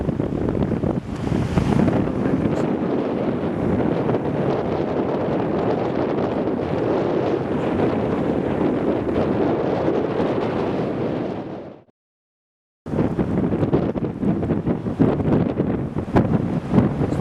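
Strong wind at a jetty at Smith Point buffets the microphone in a constant roar, with waves faintly beneath; it cuts out briefly to silence, then resumes just as loud.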